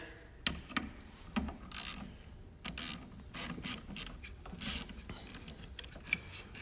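A 10 millimeter ratchet on the battery terminal of a 2017 Chevy Suburban gives quick irregular clicking bursts, close and fairly faint, with small metallic taps in between.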